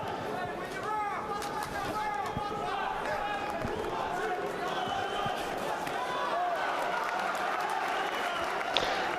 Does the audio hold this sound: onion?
no